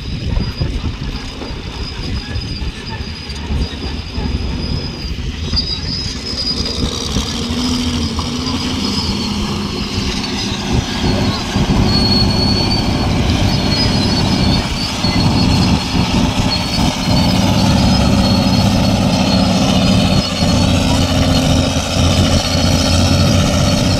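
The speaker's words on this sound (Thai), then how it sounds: "รถคันแรกที่ขับผ่านจุดที่อ่างเก็บน้ำแตกได้ครับ ก็คือรถแท็กเตอร์ครับ" A tractor drives over freshly filled earth where a reservoir dam had broken, its diesel engine rumbling steadily and loudly up close and building slightly in intensity over time.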